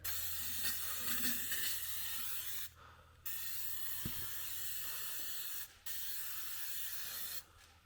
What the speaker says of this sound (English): Spray a bunch up in there.